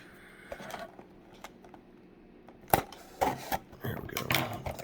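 Scissors cut open sealed sports trading card packs up close, with crinkly snipping and plastic rustling coming in irregular bursts through the second half after a quiet start.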